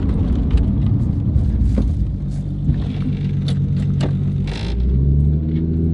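Ford Falcon XF with a Barra engine swap accelerating hard on the road, a loud continuous low engine rumble close up with some rattles over it and a rising drone near the end.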